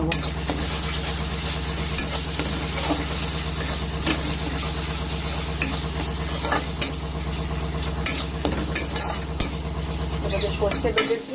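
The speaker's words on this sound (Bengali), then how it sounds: "হলুদের গুঁড়ো দিলাম, দিয়ে এবার নাড়িয়ে নেবো।" Rupchand fish with mustard, chilli, salt and turmeric is stirred in a pan, with soft scraping and occasional clinks of a utensil against the pan over a gentle sizzle and a constant low hum.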